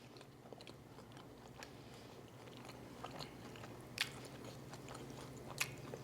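Someone bites into a cheesy taco and chews, soft wet crunching and smacking close to the mouth at a quiet level, with two sharper crisp bites standing out near the end.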